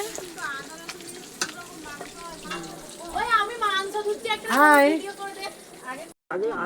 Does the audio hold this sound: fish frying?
yes